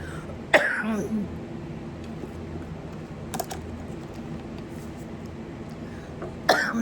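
Two sharp coughs with throat clearing, near and fairly loud, one early and one at the end, separated by quiet room noise with a faint tap in between.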